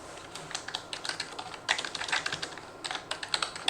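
Fingers type on a computer keyboard in quick, uneven bursts of close, crisp key clicks with short pauses between runs, and nobody speaks.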